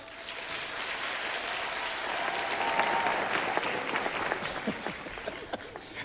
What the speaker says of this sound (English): Please, girl child, can you clap?